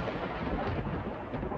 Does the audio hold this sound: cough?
no